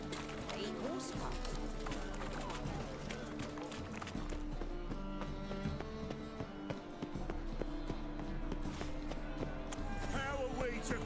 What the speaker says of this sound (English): A horse cart.